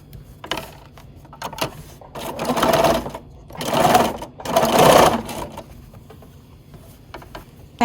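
Sewing machine stitching binding onto a quilt, motor running in three sustained bursts of rapid stitching with short pauses and light mechanical clicks between, close and fairly loud.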